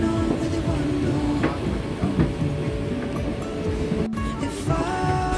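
Passenger train running from Orange County into New York: a steady rumbling rail ride with rolling wheel noise and occasional clicks and squeals, continuous and fairly close throughout.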